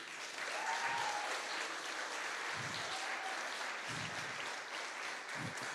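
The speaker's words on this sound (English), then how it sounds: "A round of applause for the 5 teams." A crowd applauds the five teams competing in an entrepreneurship innovation challenge final, heard as a continuous, fairly distant wash of clapping with faint low thumps.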